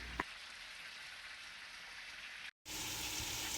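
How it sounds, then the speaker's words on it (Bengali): Flat beans and potatoes frying in a pan for a koi fish curry, giving a soft, steady sizzle that runs on evenly and drops out briefly near the end, with no talking. "তাই প্রথমেই সিম আর আলু ভাজতেছিলাম"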